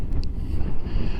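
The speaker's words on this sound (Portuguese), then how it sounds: "Um ventinho moderado aqui, mas é um vento contra nós aqui" Moderate headwind buffeting the microphone during a motorcycle ride, a steady low roaring rumble with no break.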